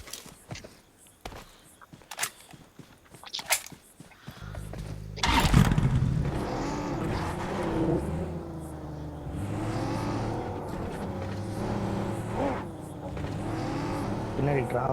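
A car engine revs and drives in the battle royale game BGMI (PUBG), a loud rumbling motor that kicks in midway after scattered gunshots and game effects, continuing steadily to the end.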